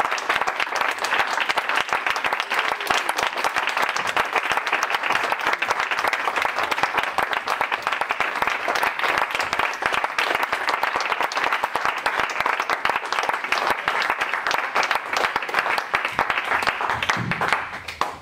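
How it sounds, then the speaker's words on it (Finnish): A crowd at a UPS rock concert in Pukinmäki gives loud, sustained applause, a dense unbroken roar of many hands clapping, with a few cheers mixed in. "Annetaan kunnon aplodit."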